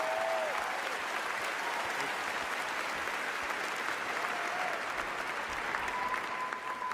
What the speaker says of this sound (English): let's give a big round of applause to these two guys for the great circle